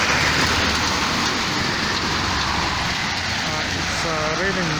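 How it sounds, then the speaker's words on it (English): Heavy rain pours down on a Nairobi street in a dense, continuous hiss with traffic noise underneath, and a voice briefly speaks near the end. "But it has started raining heavily."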